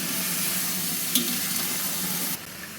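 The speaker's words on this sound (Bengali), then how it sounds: "চিংড়ি মাছটা এখানে দিয়ে দিই এখন সবজিগুলো দিয়ে দিচ্ছি নেড়ে ছেড়ে ঢেকে রাখবো কিছুক্ষণ" Shrimp and vegetables sizzle and hiss in a cooking pan as they are stirred, a dense close frying noise with one sharp scrape midway, dropping quieter near the end.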